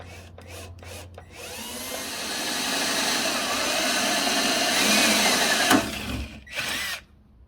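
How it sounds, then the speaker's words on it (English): A power drill whirs in several short bursts, then runs steadily for a few seconds as it bores pilot holes into the surface of a Jeep Wrangler tailgate before winding down, loud and close. "So after you get your pilot holes drilled"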